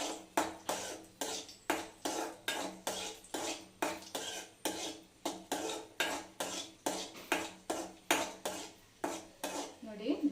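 Cashews and raisins tossed in a pan with a metal spoon, giving a steady run of sharp, regular clinks and scrapes about once a second, close and fairly loud, with only a faint sizzle beneath.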